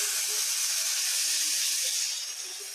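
Onion and green chili paste fry in a pan, giving a continuous bright hissing sizzle close by with no talking.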